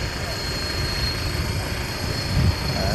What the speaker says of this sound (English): Aircraft extending his landing right down to the end there, making it quicker to expedite the runway